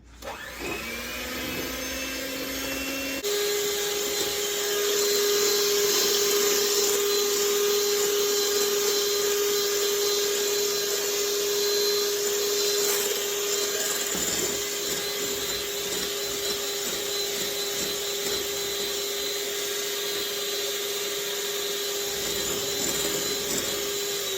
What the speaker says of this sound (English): this also then gets beat together because they want you to form some peaks